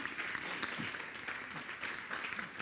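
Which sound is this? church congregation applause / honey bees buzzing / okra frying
church congregation applause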